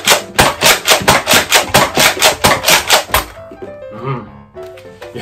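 Priming handle of a Nerf Fortnite Legendary TAC blaster being worked repeatedly, about fifteen rapid, evenly spaced plastic clacks and rasps close up, then a quieter clatter as the handling stops.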